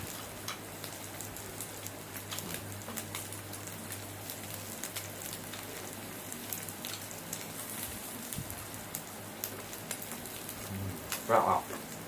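Soft, steady sizzling of pork on a Thai tabletop grill pan, fairly quiet, with faint crackles and a low hum beneath.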